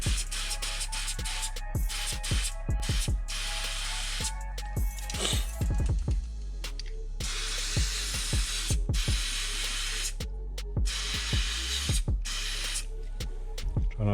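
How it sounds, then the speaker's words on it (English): Lykoff Bio degreaser is sprayed into a mountain bike hub in several close, hissing bursts, mixed with clicking and handling noises of the hub and wheel throughout, with no talking. "use a bit of the Lykoff Bio degreaser. Just spray a bit of that in."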